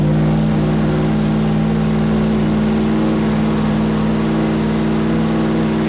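A racing car engine holds a steady, loud, close warm-up drone at about 4,000 RPM in a shop in 32-degree cold, its tone unchanging for several seconds with no talk.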